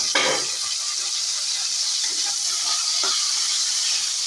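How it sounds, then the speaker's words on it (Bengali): Okra (ladies' finger) fries in a pan with a continuous hissing sizzle, broken by a few sharp clicks and light stirring knocks. "আর এখন ভাজছি আমি একটুখানি ঢেঁড়স ভাজা"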